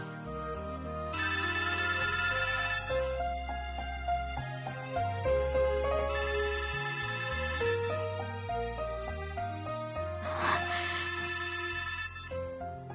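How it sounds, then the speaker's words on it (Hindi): A melodic phone ringtone plays over and over, loud and close, its bright chiming tune repeating in bursts with no one talking. "फोन बज रहा है"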